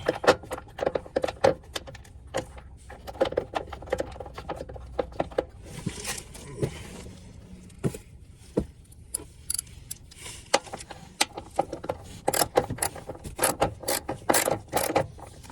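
Bolts being hand-tightened on a Nissan muffler hanger under a car, with a run of irregular metallic clicks, ratcheting and small clanks, close and moderately loud, and no talking.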